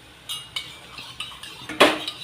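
A spoon stirring vegetable pulao ingredients in a pot, a handful of distinct metallic clinks and scrapes at an irregular rhythm, one louder knock near the end, close and clear with no voices.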